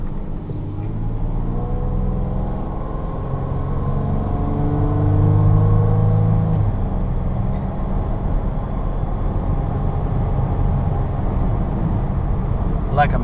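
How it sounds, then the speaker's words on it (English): A 2003 Toyota Tacoma 4x4 pickup with 71k miles drives along with a steady engine drone and a brief rise as it pulls, while a person talks over it. "This truck drives great"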